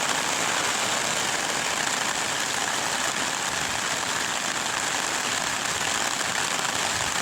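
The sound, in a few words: heavy rain pouring down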